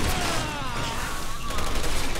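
Gunfire in the video game Resident Evil 6, a dense, continuous fusillade of rapid shots filling the whole moment, loud and close, with no pauses between bursts.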